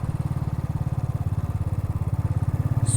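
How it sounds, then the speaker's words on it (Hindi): Motorbike engine on a mountain road trip from Nainital to Munsiyari in Uttarakhand, a steady low rhythmic thrum that pulses evenly while cruising, close and continuous with no talking. "सुबह 5:30 से हम बाइक राइड कर रहे हैं"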